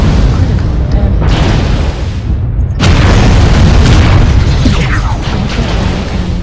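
Ammunition cooking off inside a mech in MechWarrior Online, a loud rumbling boom that swells and sustains with crackling bursts, layered over ongoing battle noise.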